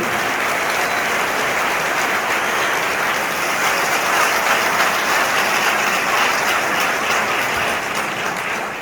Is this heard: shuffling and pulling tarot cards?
no